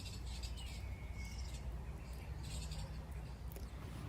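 Small garden birds chirp and tweet in short bright bursts over a steady low rumble of outdoor background noise.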